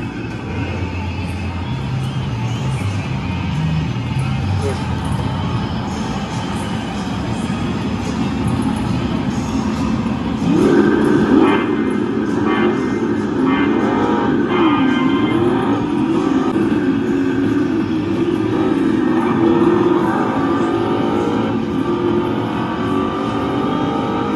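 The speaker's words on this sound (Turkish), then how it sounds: "Şimdi araba kullanacağım." Car being driven with the engine running, a continuous mid-loud drone whose pitch steps up and shifts as it accelerates through the drive, heard from inside with faint talk in the background.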